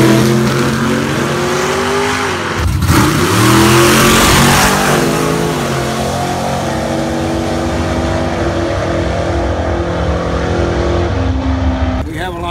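A 1955 Chevy Nomad gasser drag car's engine revs loudly and continuously, its rough exhaust note rising and falling through repeated throttle blips close by, with a brief dip in the middle before it picks back up.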